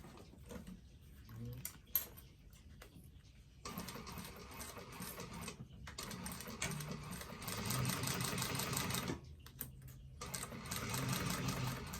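A sewing machine back stitches leather on a bifold wallet in short bursts of rapid mechanical whirring, starting and stopping several times with brief quiet gaps, then running longer and steadier toward the end.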